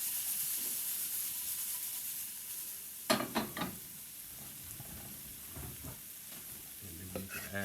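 Ginger and garlic sizzle steadily in a hot pan, with a burst of rattling and scraping around the middle as the pan is shaken, then quieter frying crackles continue.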